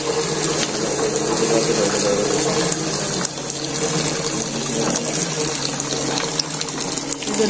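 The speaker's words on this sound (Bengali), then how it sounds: "এটাকে বলা হয় কম্বাইন ক্রিম সেপারেটর মেশিন" An Indian Paras combined cream separator runs as it splits milk from cream, giving a loud steady mechanical whir with rushing liquid and a faint ratcheting texture throughout.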